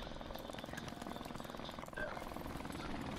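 An enemy helicopter in a video game chops faintly in the background with a steady, rhythmic rotor pulse, while players talk over it.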